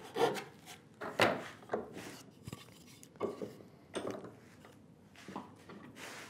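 A tenon saw cuts down the sides of a wooden workpiece for a workbench drawer, giving a series of close, rasping strokes in an irregular rhythm, fairly quiet, with no talking.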